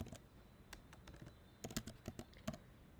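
Typing on a computer keyboard while entering an SQL query, a run of close, crisp key clicks in irregular bursts with a cluster of louder taps near the end, over a quiet background.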